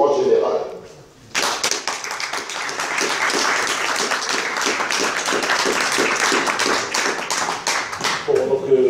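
Audience applause at a public meeting against war, a sustained burst of many hands clapping steadily for several seconds, loud and dense, with a voice speaking briefly before and after.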